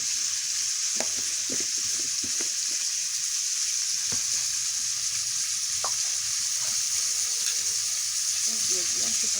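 Turmeric, salt and dried chili paste fry in a pan, with a steady dense sizzle throughout and occasional stirring knocks and scrapes. No talk is heard.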